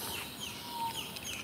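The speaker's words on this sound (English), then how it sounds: "Listen to the birds." Birds call on a beach, a few faint chirps and short whistles rising over steady wind and surf noise, brief and fairly distant.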